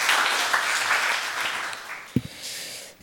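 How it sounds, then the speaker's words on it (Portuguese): A crowd applauds in a municipal council chamber at a children's council session in Blumenau, with steady, dense clapping that thins and fades toward the end, broken by a couple of sharp low knocks. "Obrigado pelas palmas."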